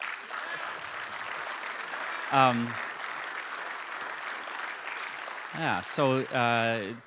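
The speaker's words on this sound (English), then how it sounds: "that's Chilliwack people cheering for Reg" A convention crowd in a large hall applauds for a new pastor from Chilliwack, steady clapping with a few short voiced cheers rising near the end.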